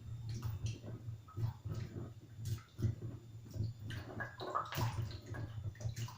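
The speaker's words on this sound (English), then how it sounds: "So you stir it around and you wash them." Cut potatoes for French fries being stirred and washed by hand in a bowl of water, a soft continuous sloshing and swishing with light gurgles, close and fairly quiet.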